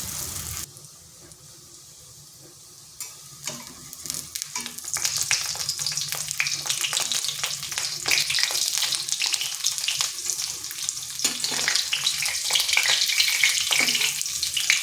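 Pieces of pointed gourd (potol) fry in oil for a vegetarian dish, a steady close sizzle with crackling pops that grows denser and louder, and occasional stirring clinks throughout.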